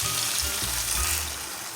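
Beef broth hits a hot pan of casserole mixture with a loud, steady sizzle and frying hiss, close up and continuous, with faint stirring underneath and no voices.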